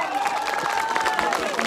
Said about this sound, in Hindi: बड़ा नाम संगीता डोंडियाल जी के लिए जोरदार तालियां।